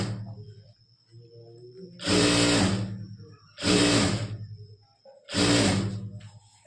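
A domestic sewing machine stitching the shaped lower edge of a ladies' collar, running in three loud, steady bursts of a couple of seconds each, separated by quieter pauses with faint handling.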